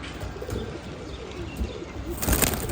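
A female pigeon cooing nearby, soft low repeated coos over a steady background hum.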